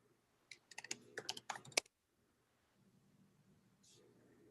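A password typed on a computer keyboard for an SSH login: a quick burst of about a dozen crisp, close key clicks over a second or so, then near silence with a low background hum.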